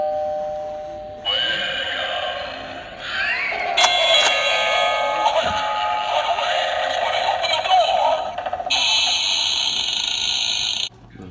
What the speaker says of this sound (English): They have doorbells.